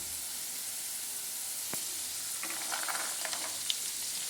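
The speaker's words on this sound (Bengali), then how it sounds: "নেড়ে চেড়ে আলু আর মটরশুঁটি একই সঙ্গে ভেজে নেব।" Potatoes and green peas frying together in a pan, a steady hissing sizzle throughout, with one sharp clink and then a run of light scraping stirs and small crackles in the second half.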